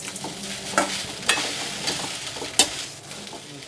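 Grated coconut and green chili sauté in sesame oil in a pan, a steady soft sizzle broken by a few sharp scrapes and clinks of the stirring spoon, close up with no talking.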